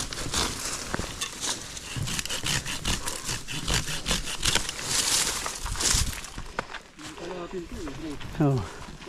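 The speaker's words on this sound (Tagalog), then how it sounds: "chainsaw" While a trail in Riding Mountain National Park is cleared, rough rhythmic rasping of a blade through wood runs close and steady, then breaks off near the end as a voice speaks over it.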